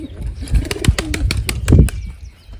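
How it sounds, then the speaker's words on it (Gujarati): Pigeons coo nearby in low, throaty rolling calls, with a few soft clicks and rustles in between. "આ બાજુ એક કબૂતર બેઠું હોય"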